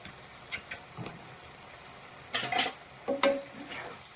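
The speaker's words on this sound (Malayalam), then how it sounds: "നൂഡിൽസ് കൂടി ചേർത്തിട്ട് നന്നായിട്ട് നമ്മൾ മിക്സ് ചെയ്യുക" Cooked noodles being stir-fried and mixed into a masala filling in a pan, with a quiet sizzle and several short scraping stirs from a utensil, the louder scrapes bunched near the end.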